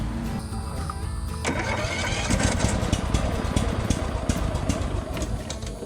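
A Toro zero-turn mower engine cranks briefly, then catches and runs at a loud, steady rumble, close by and without talk.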